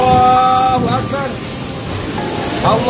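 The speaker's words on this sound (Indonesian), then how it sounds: "Hujan deras disertai angin kencang dan petir yang terjadi pada Rabu 17 April 2024 sore" Heavy rain with strong wind and lightning on an April afternoon at government offices, a dense rushing downpour close by, while voices talk and exclaim over it.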